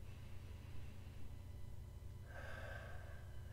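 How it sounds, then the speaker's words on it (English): A deliberate deep breath is drawn in audibly, starting faintly and swelling into a louder, airy inhale toward the end, close to the microphone and without speech. "just take a breath. Take an intentional breath."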